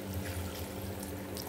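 Water poured from a glass into a pan of vegetable curry made with dill and spinach, a steady close gush for a moment with no talking.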